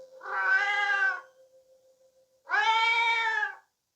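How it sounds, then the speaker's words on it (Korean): Two drawn-out cat meows, each about a second long, separated by a quiet pause with a faint steady hum beneath. "앨리스는 고양이 울음소리에 잠에서 깨어났어요"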